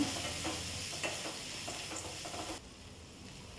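Onion and curry leaves sautéing toward golden brown give a dense, steady sizzle with light stirring scrapes, quite quiet, softening noticeably in the final second or so.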